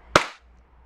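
A KJW KP17 airsoft gas blowback pistol fires a single sharp, close crack with a brief hissing tail, then quiet.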